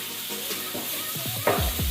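Crushed ginger, garlic, dried chillies and curry leaves sauté in hot oil in a pan for a dried beef dish, giving a steady close sizzle with occasional louder crackles as the mix is moved.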